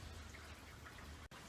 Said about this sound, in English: It's raining right now out here.